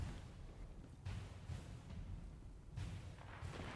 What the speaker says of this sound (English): Can hear explosions.